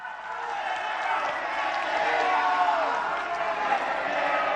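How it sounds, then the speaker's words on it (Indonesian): An audience at a public debate for South Sulawesi governor candidates applauds continuously, dense clapping with some cheering, steady and fairly loud throughout. "kita berikan tepuk tangan kepada dua pasangan calon"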